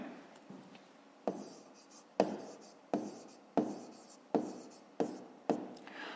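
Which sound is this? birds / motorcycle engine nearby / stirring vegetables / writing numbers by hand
writing numbers by hand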